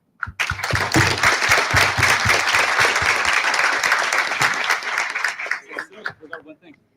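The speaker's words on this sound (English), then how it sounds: "I just wanted to ask for a round of applause for them, please" An audience at a Latin American and Caribbean regional gathering bursts into loud, dense applause that holds steady for several seconds before thinning into scattered claps, with a few voices and chuckles mixed in.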